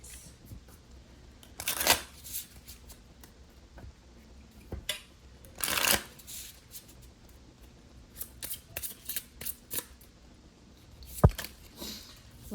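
Tarot cards being shuffled and handled during a reading, giving brief crisp riffles and soft taps at irregular intervals, close and fairly quiet with near silence between them.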